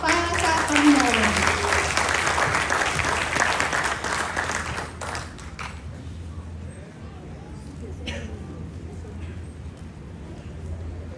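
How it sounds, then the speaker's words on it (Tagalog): Audience applause in a church setting before a Christmas cantata by the SLCF Choir, dense clapping with a cheering voice over the first few seconds, then thinning and trailing off into quieter scattered claps and room noise. "Isang malakas na palakpak para sa Panginoon."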